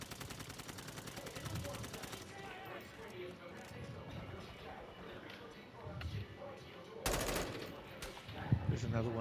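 Gunfire in the video game Call of Duty DMZ: rapid automatic bursts rattle at the start and a sharp loud burst hits near the end, with players talking over the shooting throughout.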